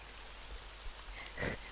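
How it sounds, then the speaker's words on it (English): Quiet rain falls in the video game Drizzling Rain, a soft steady hiss of drops under a low hum, with one brief louder patter near the end. "A quiet rain is falling."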